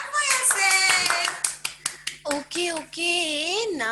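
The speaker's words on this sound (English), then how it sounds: "Clap for yourself." Nursery-class children clap in several quick bursts, mixed with excited kids' voices talking and squealing over the applause.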